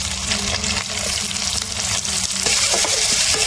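Fish sizzles in hot oil in a pan with green chili and tomato for a Bengali fish dish, a close, continuous frying hiss throughout with faint stirring.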